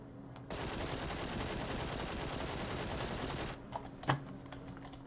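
An assault rifle fires one long sustained burst in PUBG, a dense rapid rattle lasting about three seconds, followed by a few mouse and keyboard clicks.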